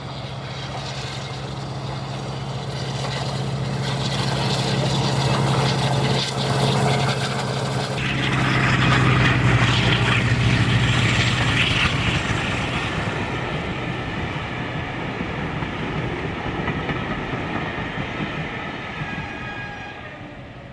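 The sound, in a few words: Western Courier diesel locomotive's Maybach V12 engines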